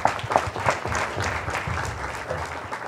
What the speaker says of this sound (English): while everybody's clapping